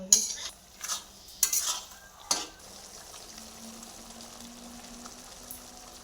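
Coconut laddu mixture stirred in a pan over medium flame: several scraping clinks of a utensil against the pan early on, then a low, steady cooking hiss.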